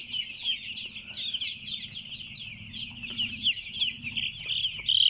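Five-day-old broiler chicks on a farm, a dense, continuous chorus of high peeping chirps from many birds, moderately loud and steady throughout with no talking.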